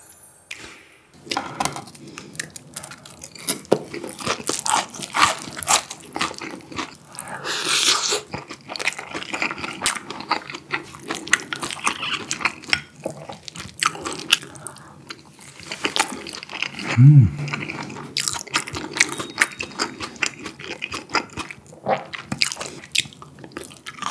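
Someone eats crispy fried cheese tonkatsu with cheese carbonara buldak noodles up close, with loud crunchy bites, wet chewing and slurping filling the whole stretch, alone without talk.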